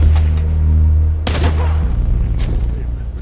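Sharp bursts of gunfire crack through a loud rumbling scene, a couple of distinct shots standing out over the heavy low drone.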